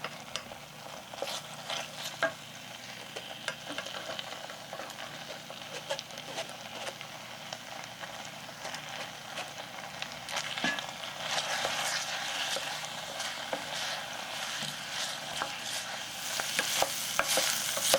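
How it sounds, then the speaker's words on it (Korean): Cooked macaroni is stirred into a thick cheese sauce for mac and cheese, a wet, sticky squelching and scraping that continues at a moderate level and grows busier toward the end, with no talking. "더 이상 뭉치지 않고 걸쭉한 상태가 되면 마카로니를 넣고 잘 섞어주세요"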